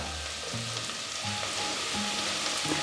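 Chopped spicy green chillies sizzle and fry in a pan for Kerala-style beef mappas, a steady close crackle with occasional stirring and no talking.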